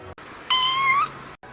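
A cat gives a single clear, close meow lasting about half a second, set in a short quiet stretch of room tone.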